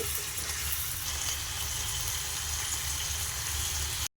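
Washed chicken pieces with turmeric frying in a pan for chicken kulambu, a loud continuous sizzle with a low bubbling rumble underneath, steady throughout before cutting off abruptly.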